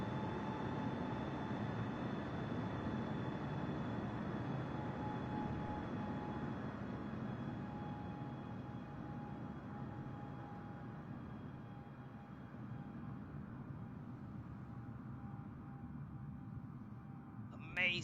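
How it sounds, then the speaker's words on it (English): Air Force One jet taking off at full power from a short runway, a steady loud engine roar with a sustained whine that holds throughout and fades slightly toward the end. "Alright guys, full power, let's go."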